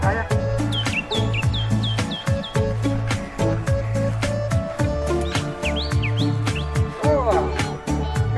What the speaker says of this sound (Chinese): 你看小鸟，你再去找小鸟，要不要？